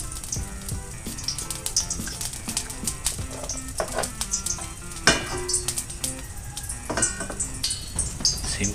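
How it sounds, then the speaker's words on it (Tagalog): Popcorn kernels cooking in a generous amount of oil in a pan, a busy crackling sizzle broken by sharp clicks and pops, with metallic scraping and stirring running throughout. "And now the popcorn. Maraming oil lang ito."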